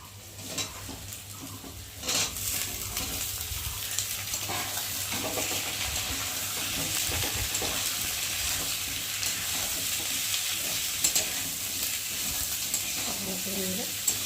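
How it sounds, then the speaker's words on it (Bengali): Potatoes frying with onion in a pan for a tengra fish recipe give off a steady, close sizzle. Occasional stirring scrapes and light clatters of a utensil against the pan come through over it, and no one speaks. "পেঁয়াজের মধ্যে আলুগুলো দেবো।"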